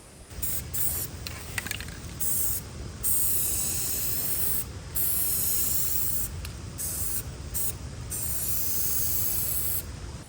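Green fluorescent spray paint hissing from a can onto a sign, loud and close, in long steady bursts with brief gaps between passes.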